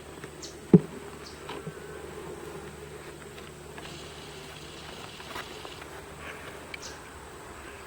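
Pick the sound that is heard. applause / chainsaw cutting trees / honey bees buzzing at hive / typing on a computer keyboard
honey bees buzzing at hive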